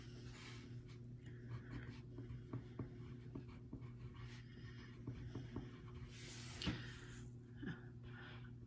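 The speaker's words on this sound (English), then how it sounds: "what we're going to do first is write your name up at the top" A crayon scratches softly on paper as a name is written, with faint, light strokes over a steady low hum.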